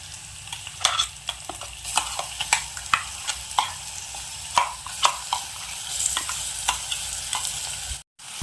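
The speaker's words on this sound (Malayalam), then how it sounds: "ഇനി അരപ്പിൻ്റെ പച്ചമുളകൊക്കെ ഒന്ന് മാറി നന്നായിട്ടൊന്ന് മൊരിഞ്ഞു വരട്ടെ" Ground spice paste with green chilli sizzles steadily in a pan while a spoon stirs it in regular scraping strokes, roughly one every half second, close and fairly loud, with no talking.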